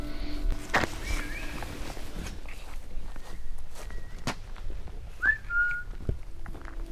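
Brief high whistling tones drift through an abandoned sanatorium during an urban exploration, with scuffing footsteps and sharp knocks against a low, hollow room ambience.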